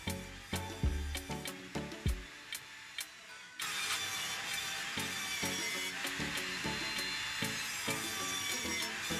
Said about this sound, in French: Pour les petites coupes, j'utilise la scie sur table, qui permet en plus de faire des coupes identiques en série.